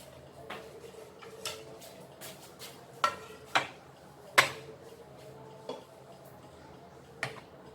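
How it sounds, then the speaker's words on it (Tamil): Ice cubes dropped into cups of carrot juice, a handful of sharp, quiet clinks spaced irregularly over several seconds in a calm kitchen. "கப்பில் கொஞ்சமாக ஐஸ் க்யூப் சேர்த்துக்கிறேன்"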